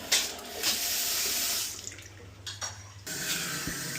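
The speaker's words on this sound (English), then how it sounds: "Just pop that water back on, Rob." A bathtub tap runs water steadily in a bathroom during a leak repair, a close hiss that cuts off briefly partway through and then picks up again.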